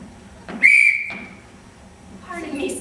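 A single sharp, piercing whistle blast rings out for about half a second, loud and close, with faint voices and room noise before and after it.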